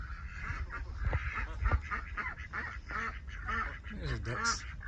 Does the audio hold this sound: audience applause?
no